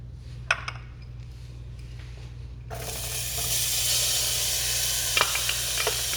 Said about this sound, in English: I'm going to use it to saute the onion, the garlic, and the chopped scallion